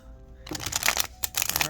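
After a brief quiet moment, a Minchiate tarot deck is riffled and shuffled up close in quick bursts, with a short pause before another riffle.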